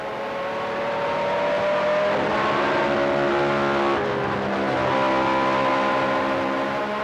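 Onboard Formula 1 engine howling at speed through the Lesmo curves at Monza, steady high-pitched whine with a brief lift and dip in pitch midway before pulling hard again, loud and close the whole time.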